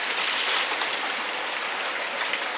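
Steady broadband rush of creek water spilling over the rim of a gold pan back into the creek, continuous and close, with no talk.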